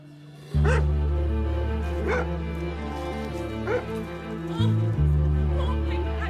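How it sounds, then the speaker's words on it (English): A dog barks in repeated bursts outdoors as a guest's dog runs loose, set over a steady low musical drone with some voice-like sounds. "It seems maybe one of the guests' dog has gotten out."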